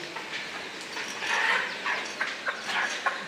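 Faint, scattered clucking and peeping of hens and chicks on a farm in a quiet space, with soft irregular calls over a few seconds.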